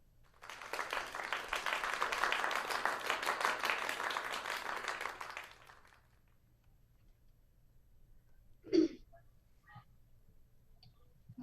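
Applause from the audience at a teen monologue showcase in an acting studio fills the room with dense clapping for about five seconds, then fades to quiet with a few stray claps and small noises.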